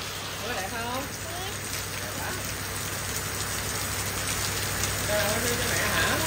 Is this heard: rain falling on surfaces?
yes